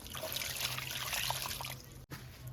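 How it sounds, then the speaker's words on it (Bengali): Running water splashes and trickles steadily at close range as pumpkin leaves are washed under it, with a brief dropout near the end. "আমি কুমড়ো পাতাগুলো ভালো করে ধুয়ে নিচ্ছি।"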